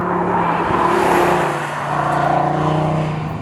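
An Audi TT RS five-cylinder turbo engine idles and revs with a steady, throaty drone and a swelling rise in the middle, heard close and continuous without any talk.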